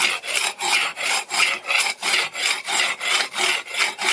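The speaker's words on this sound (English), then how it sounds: "here I'm using the rasp" A rasp filing a block of soapstone to shape it with Viking Age methods: about a dozen evenly spaced, gritty scraping strokes in a steady back-and-forth rhythm, close up and with no talking.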